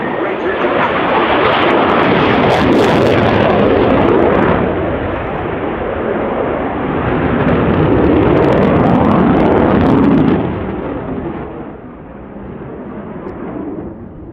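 A Sukhoi heavy fighter jet roars loud and close at an air show, a continuous broadband thrust that swells and recedes slightly as it passes before easing off at the end.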